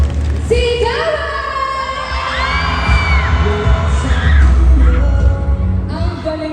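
An audience at the SM Southmall stage show for Shake, Rattle & Roll Evil Origins cheers and shouts loudly and steadily, a dense crowd roar with rising whoops and scattered bangs filling the whole stretch.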